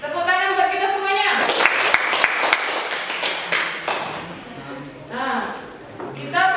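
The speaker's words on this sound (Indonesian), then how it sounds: "Tepuk tangan buat kita semuanya." A classroom of students gives a short round of clapping, a cluster of sharp claps over a couple of seconds, with children's and a teacher's voices speaking before and after.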